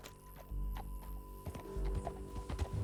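Horse hooves clip-clop on terrain in Red Dead Redemption 2 during a ride toward a canyon, a steady rhythm of hoof strikes mixed with low rumbling game ambience.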